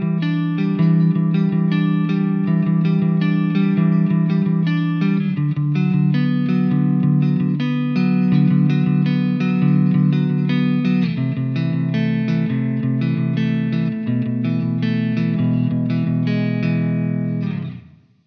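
An electric guitar plays a clean-tone passage through the ML Sound Lab Amped Icon preset with the pickup selector in the split neck position, sustained chords and arpeggiated notes ringing steadily, then stopping abruptly at the end.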